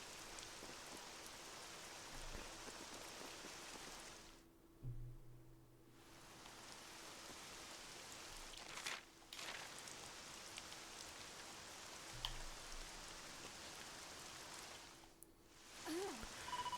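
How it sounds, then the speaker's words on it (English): Steady rain falls throughout a scene in the video game Dragon Quest 7 Reimagined, a broad continuous hiss that dips quiet for a couple of seconds before returning, with a low hum and a few faint tones beneath. "Great rain, it's back."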